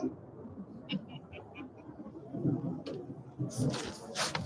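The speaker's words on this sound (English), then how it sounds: "No, that's a bird." A pigeon or dove coos near an electric-vehicle charging spot in a Walmart parking lot, a short series of soft, rhythmic coos over low outdoor rumble, followed by louder noise.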